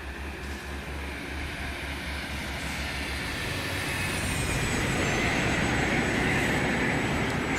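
An Airbus A321 NEO LR lands in a flight simulator game, heard from outside. A steady jet roar builds gradually and rumbles with broad, low-pitched noise. A high whine rises through it, with no voices.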